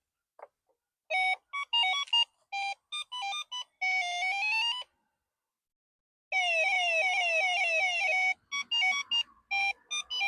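A vintage 1981 Coleco Pac-Man tabletop mini arcade game plays its beeping electronic tones: short chirpy bursts, a pause, then a long warbling sweep followed by more quick beeps, close and clear with no talking.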